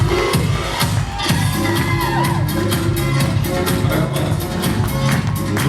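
Wedding guests at a village celebration clap and cheer loudly for the young couple, a dense, continuous wash of applause with rhythmic clapping and shouts, sustained throughout.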